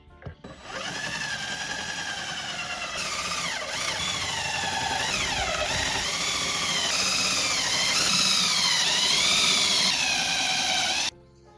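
A power drill bores holes into plywood for a budget removable Toyota camper shell, its high whine running steadily for about ten seconds, rising and dipping in pitch as the bit bites and loads down, close and fairly loud.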